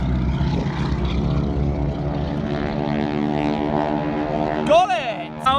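A propeller aircraft carrying wing walkers flies at the Duxford air show with a steady, loud engine drone that sweeps slightly in pitch as it passes overhead. A person talks over the engine near the end.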